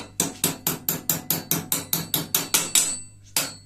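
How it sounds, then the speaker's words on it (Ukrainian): Twelve evenly spaced metallic hammer blows knocking out cotter pins ring out close by in a steady rhythm, then a short pause before one final strike. "Так, клепач. Точніше молоток, друзі."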